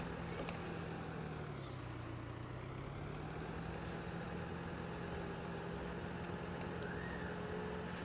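A tractor in the video game Farming Simulator 2017 strains to pull a heavy, full silage trailer, its engine giving a steady, loud, low drone whose pitch dips and rises slightly, with no voices.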